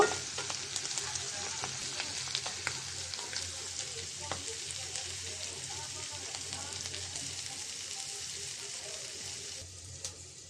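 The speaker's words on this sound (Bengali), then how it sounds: "তো গুঁড়া মাছটা হয়ে গেছে, একদম ভাজা ভাজা করে নিয়েছি।" Small fish sizzle steadily as they fry in a pan with coriander leaves, a continuous crackling hiss broken by light scraping clicks of a spatula, close and fairly quiet throughout.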